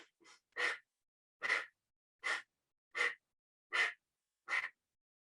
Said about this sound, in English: the ego eradicator breath is an emphasis on the exhale and then a natural inhale